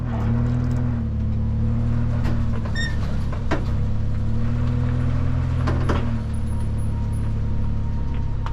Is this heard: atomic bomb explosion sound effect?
no